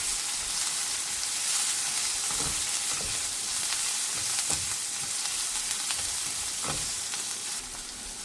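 Carrot, beans and potato palya sizzles steadily in a pan over a low flame as coriander leaves go in, a close, even hiss with occasional soft stirring taps.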